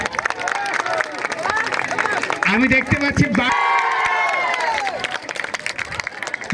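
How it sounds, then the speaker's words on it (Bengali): An audience at a gathering breaks into a burst of clapping and crowd noise, loud and close, while someone speaks over the applause. "আপনারা নিশ্চয়ই আমাদের জন্য একটা হাততালি দিতেই পারেন"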